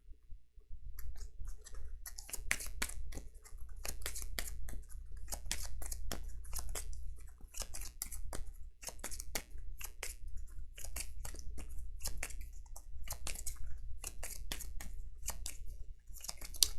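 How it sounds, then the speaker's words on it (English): Game cards from a Kinfire Chronicles deck riffled and shuffled at a table, a steady run of crisp, close clicking flutters repeating over several seconds with no talk. "We have to shuffle."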